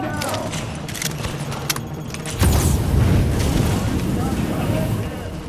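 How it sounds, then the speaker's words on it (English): A fire grenade goes off in The Division video game, a sudden loud whooshing burst that settles into a sustained roaring crackle. Sharper clinking noises come just before it. "No, they shot a fire grenade."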